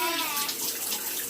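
Shower water running steadily as broadband hiss and spatter, close and continuous throughout, with no speech over it.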